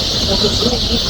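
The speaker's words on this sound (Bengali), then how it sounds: "মানুষের সাথে কিন্তু পাখিরও কিচিরমিচির শব্দ" Thousands of sparrows roost in a tree at night at Shahjalal International Airport, their massed high chirping forming a dense, continuous wall of sound that stays steady and loud throughout.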